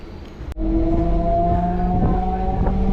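A Chennai suburban electric train rolls toward Perambur Carriage Works station on the Central to Pattabiram line, its loud steady motor drone and wheel rumble rising abruptly after a sharp bang and holding close and continuous, with no talk.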